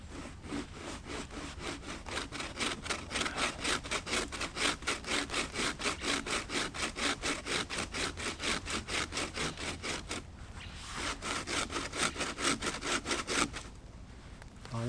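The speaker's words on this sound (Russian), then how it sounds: "Она пилит, но болтается." A handmade bow saw cuts steadily through a wet log in a rainy forest, with rapid, even back-and-forth rasping strokes that pause briefly twice before resuming, loud and close.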